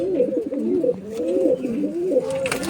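Domestic pigeons of the Andra and Malbai breeds coo steadily indoors, several overlapping rolling calls close by with no talk.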